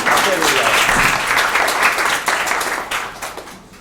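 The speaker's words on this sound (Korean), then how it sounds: "박수 한번 쳐주시기 바랍니다." An audience at a short speech event bursts into dense, continuous applause, many hands clapping together at close range and gradually tapering off toward the end.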